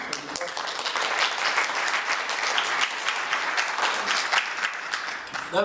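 An audience at a public service commission hearing on a proposed Duke Energy facility claps steadily, dense and fairly close, sustained across the whole stretch with a few louder claps at the end.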